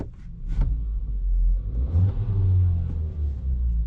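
The small 1.6-liter engine of a 2021 Kia Seltos idles with a steady low rumble close by, smooth and fairly quiet, with a faint rise in tone midway.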